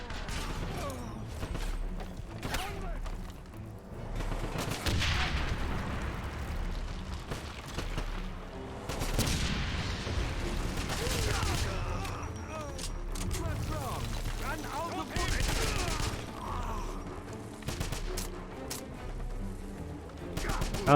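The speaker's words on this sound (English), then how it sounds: "Oh, that's a Gatling gun." Heavy, continuous machine-gun fire from a Gatling gun in the 2009 PC game Wolfenstein, mixed with clanking mechanisms and explosions, with voices speaking over the battle.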